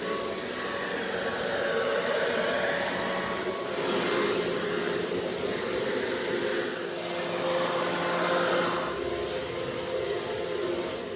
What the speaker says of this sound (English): this part here is the leaf blower attachment. You put that on like that, and now you go blow a wide range of leaves.